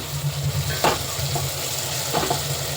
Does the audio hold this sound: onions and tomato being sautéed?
yes